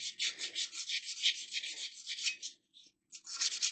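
Hand sanding with 400-grit paper on a motorcycle engine case produces quick rhythmic back-and-forth scratching strokes, close and fairly loud, with a brief pause before the strokes resume.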